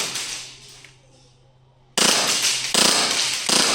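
A Novritsch SSP28 airsoft pistol fires on an outdoor field. A quiet stretch gives way to loud, crisp bursts of shots close to the microphone.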